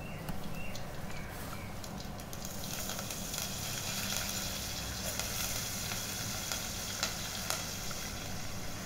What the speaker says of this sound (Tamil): இப்போ பச்சை மிளகாவும் கருவேப்பிலையும் பொரிஞ்சு வரட்டும்.